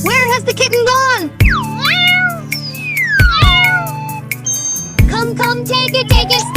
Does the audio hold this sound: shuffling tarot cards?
no